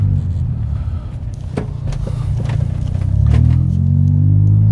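A Mini Cooper convertible on a test drive, heard from inside the car: a low engine and road rumble that swells as it picks up speed, with a few faint knocks and clicks over it. No voices.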